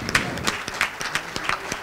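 Conference audience applauding a guest being welcomed, a brief burst of close, fairly loud clapping with distinct individual claps that form an uneven, loosely rhythmic patter.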